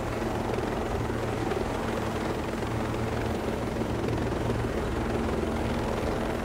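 A helicopter in Ghost Recon Breakpoint drones steadily throughout, its rotor and engine noise loud, close and unbroken, with no talk over it.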